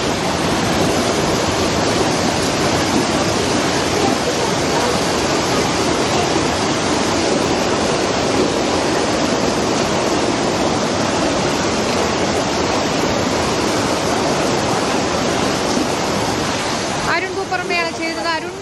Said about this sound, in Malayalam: കുത്തിയൊലിച്ചു വരികയാണ് വെള്ളം.